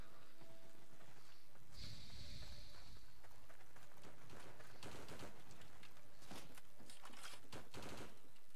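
A machine gun fires in the online war game Heroes and Generals, with rapid bursts of gunshots in quick clusters, a whooshing burst early on and ongoing battlefield noise, loud and close.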